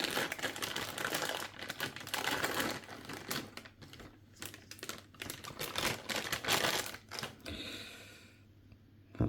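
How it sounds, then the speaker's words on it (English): Close rustling and crinkling of plastic packaging with sharp scissor snipping and clicking, irregular bursts as a Hygger bio sponge filter's packaging is cut open, then quieter at the end. "Let's open this with my scissors."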